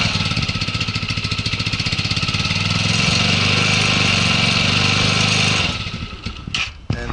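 A cold superbike engine warms up at a steady, loud idle with a fast, even pulsing throb, then drops off near the end into a few uneven sputters and clunks.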